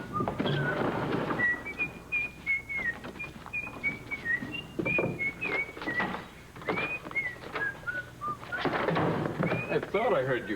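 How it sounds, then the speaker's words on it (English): A person whistles a wandering, melodic tune at moderate distance while thumps and other indoor noises sound around it. "I thought I heard you whistling"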